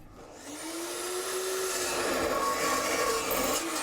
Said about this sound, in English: I'm going to take slices of the Schedule 40 pipe, probably about 3 mil or 1/8 inch thick, just slice them off